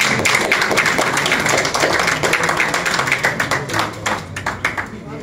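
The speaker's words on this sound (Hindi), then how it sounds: "तो चौधरी हनीफ साहब की खिदमत में भी मैं चाहता हूँ कि एक दफ़ा तालियों के जारी जाए।" Applause at an outdoor speech session during a camping gala at Dera Nawab, honoring Chaudhry Hanif: dense, steady crowd clapping throughout, thinning into separate claps toward the end, with talk mixed underneath.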